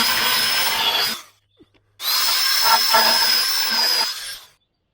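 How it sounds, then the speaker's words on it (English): An angle grinder works a steel body panel during rust repair on a Jaguar XJ X300, giving a loud, close, steady high whine in two long bursts separated by a short pause, with no talking. "I have to grind a little all along"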